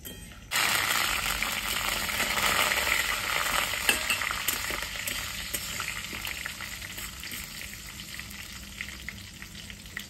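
Bay leaves, dried chillies and cumin hit hot oil and burst into a loud, crackling sizzle that gradually settles into a steady fry, close and free of talk.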